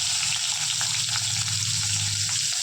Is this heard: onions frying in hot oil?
yes